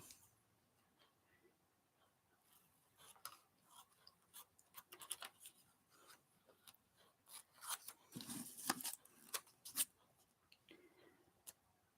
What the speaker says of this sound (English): I'm going to cut these words apart.